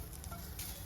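Bitter gourd frying in a pan, a faint steady sizzle with light crackling, heard close and quiet over a brief moment.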